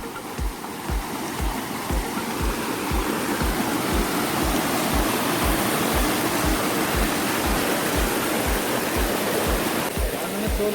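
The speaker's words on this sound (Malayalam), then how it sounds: "മലയുടെ മണ്ടയിൽ നിന്ന് ഒഴുകി വരുന്ന വെള്ളമാണ്" A cold mountain stream at Ilaveezha Poonchira pours down from the hilltop in a loud, steady rush of water that holds without a break. No voices are heard.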